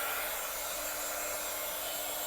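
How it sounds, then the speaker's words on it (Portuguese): A hair dryer blows a steady, loud, continuous whoosh of air close by while drying matte paint on an MDF tray, with no talking. "acelerar com o nosso secador"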